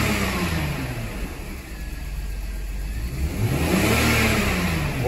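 A warmed-up BMW car engine revs loudly and up close, the pitch rising and falling in two clear swells over a steady mid-range hum, with no talking.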